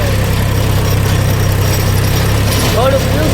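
A tractor engine runs steadily while working a field, a loud, constant low rumble and vibration throughout.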